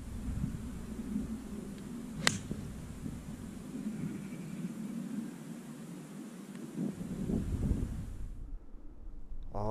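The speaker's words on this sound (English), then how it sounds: "We've got the wind blowing from right to left." Wind blowing across Bantry Bay Golf Club in County Cork, Ireland: a steady low rumbling buffet against the microphone with one sharp click and some gusty swells near the end.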